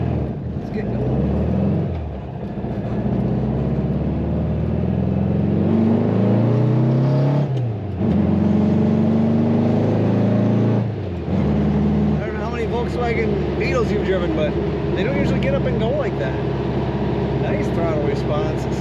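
A 1966 Volkswagen Beetle drives along the road, its engine rising and falling in pitch as it accelerates and shifts, loud and steady, heard from inside the car for the full stretch with no talk.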